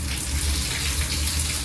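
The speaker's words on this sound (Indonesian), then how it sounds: "saya akan membuka keran air" A water tap is turned on and gushes steadily into a sink, a dense continuous rushing close by for the whole moment, with no speech.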